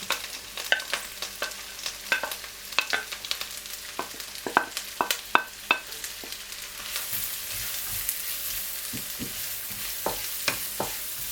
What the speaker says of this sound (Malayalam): ഈ മെൽറ്റ് ചെയ്ത ബട്ടറിലോട്ട് അരിഞ്ഞു വെച്ചിരുന്ന സവാള, ഇത് ഒരു സവാളയാണ്, അതിട്ട് കൊടുക്കാം